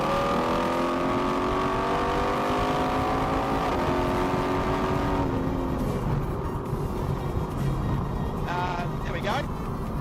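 A car on a fuel-economy drive accelerates to overtake, its engine note climbing steadily in pitch and then easing off halfway through, heard from inside the cabin under constant road rumble, with a person talking over it.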